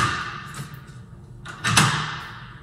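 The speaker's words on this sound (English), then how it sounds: "And then obviously close the door. And test to make sure the lock works properly when the door is closed." A front door fitted with a newly installed deadbolt is swung shut nearby, a soft rustle and light knock followed by a sharper closing thud with a brief metallic click, heard alone.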